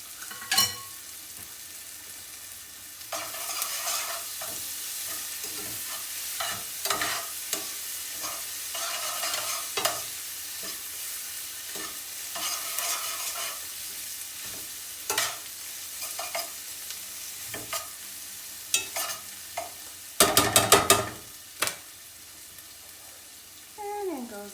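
Garlic fries in a pan as a steady close sizzle, broken by repeated scraping stirs and brief clattering utensil knocks, with no talking.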